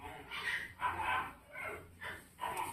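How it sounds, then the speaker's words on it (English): Several dogs bark and yip in the background, five separate bursts spaced about half a second apart, fairly faint and thin as if heard from another room or outdoors. "Look at this noise in the background, the dogs."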